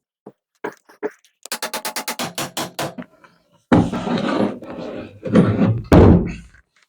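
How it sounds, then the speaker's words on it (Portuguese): Hammer blows drive wooden dowels into a handmade wooden chair, first a few light taps, then a quick run of about ten sharp, close knocks, followed by louder, duller thuds and rustling. "vou encaixar as buchas aqui e depois bater com o martelo"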